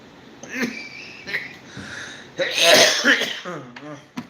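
A few rough coughs and throat-clearing sounds, close up, with a brief wheezy breath near the end.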